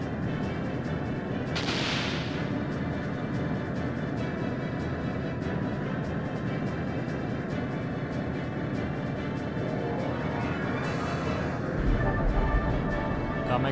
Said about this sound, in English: Harpoon cannon's up next.